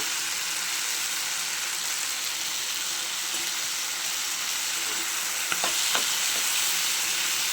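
Taro stolons frying with prawns in a pan give off a soft, even sizzle, with a few sharp spoon knocks and scrapes near the end; close and fairly quiet.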